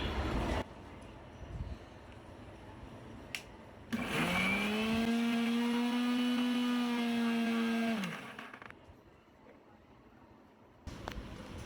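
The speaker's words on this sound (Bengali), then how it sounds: "এখন এটাকে আমরা ব্লেন্ড করে নেবো" An electric blender purees boiled bottle gourd leaves, its motor whirring loudly in one steady run of about four seconds with a rising pitch at the start, framed by quieter kitchen background before and after.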